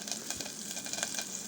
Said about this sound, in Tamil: கொஞ்சம் சின்ன வெங்காயம் நறுக்கி போட்டு இதை நல்லா தாளித்து விட்டுக்கோங்க